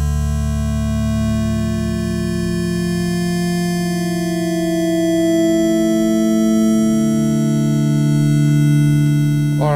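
A homemade digital synthesiser plays sustained polyphonic chords that swell in slowly, layered steady electronic tones holding and shifting over about ten seconds, loud and alone.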